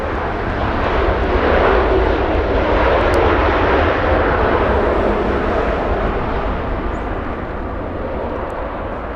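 Airliner arriving at Los Angeles International Airport, a loud, steady broadband jet roar that holds for the whole stretch and eases slightly toward the end, with no voices over it.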